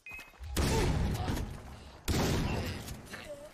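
Two loud, close gunshots fire about a second and a half apart in the video game Far Cry 3, each a sharp blast that rings out and decays while someone talks quietly.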